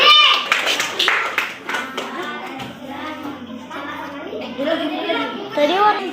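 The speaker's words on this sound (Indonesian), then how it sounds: "Tepuk tangan untuk kelompok 3." Scattered hand clapping from a group of children, brief and uneven, mixed with kids' chatter in a classroom.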